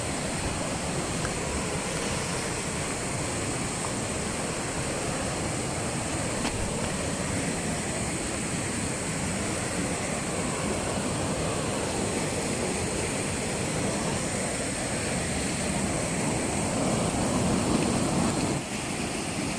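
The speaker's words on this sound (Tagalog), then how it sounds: "Sa gilid talaga ng ilog." Steady rushing water flows continuously at close range, a broad even wash of sound with no voices, like a river running over stones.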